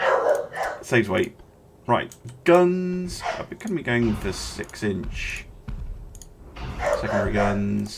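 Dog barking in a home while someone talks: a few loud, sharp barks cut between his steady speech, with keyboard clicks in the background.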